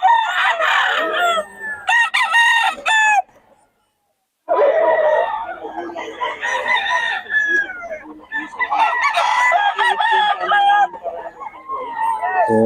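Roosters crow and cluck at a gamefowl sale, with loud, close, overlapping crows and cackles that fill nearly the whole stretch, broken by a brief silence, amid a lively crowd.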